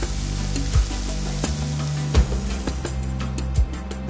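Stock poured into a pan of ostrich goulash with green peppers, giving a steady close sizzle with a few soft clunks of stirring or the pan being moved.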